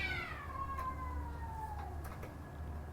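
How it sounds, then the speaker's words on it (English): Cats fighting on a roof outdoors, a long drawn caterwaul that slides downward, followed by a few sharp scuffles, heard at a distance over a low steady rumble. "Cat fight on the roof."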